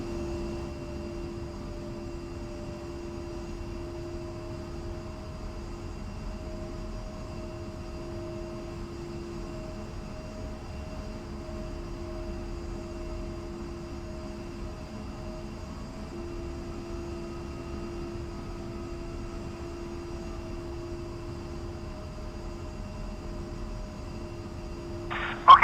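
Jet aircraft taxiing along an airfield taxiway in the flight simulator DCS: World, a steady continuous engine whine and hum with a sustained tone, unchanging throughout, with a brief louder burst at the very end.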